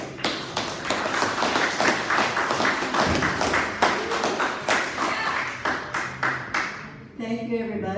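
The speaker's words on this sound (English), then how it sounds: "But like right now, let's have a round of applause for Miss Zoriya." An audience claps at an outdoor Art in the Park poetry event, a run of steady, fairly close applause that fades out near the end as a voice begins speaking.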